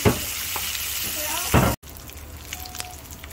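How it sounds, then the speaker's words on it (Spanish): Dried chiles fry in hot oil in a pan for salsa roja, a crackling sizzle with stirring that cuts off abruptly, followed by a quieter, softer bubbling. "ahora le vamos a poner los chiles estos secos"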